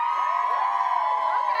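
A live crowd at a sports show cheering for a contestant, a dense continuous roar of whoops and shouting voices held at a steady loud level throughout.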